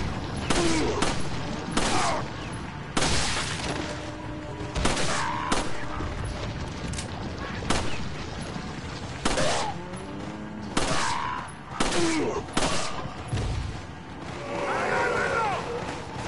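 Gunfire in the Resident Evil 4 video game, repeated loud shots scattered through the clip among game noises, with a voice talking over parts of it.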